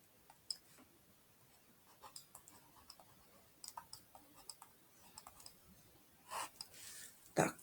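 Chalk or marker tapping and scratching on a board as a pyramid volume math problem is worked out, faint irregular clicks and short strokes with pauses, close but quiet, with no talking.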